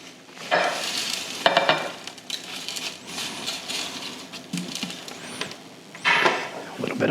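Shallots and garlic go back into hot chili oil, sizzling and crackling in bursts with stirring and clinks of a utensil against the pan, close and fairly loud.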